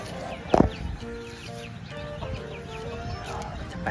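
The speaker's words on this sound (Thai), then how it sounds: "จับไก่จับไก่ครับ" Chickens being chased and caught, giving clucks and squawks with one loud flurry early on, then scattered calls against a busy farmyard background.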